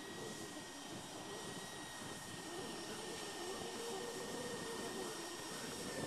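A scratch-built radio-controlled Boeing YC-14 model with twin ducted fans flies overhead, producing a steady, faint high-pitched jet whine outdoors in a headwind.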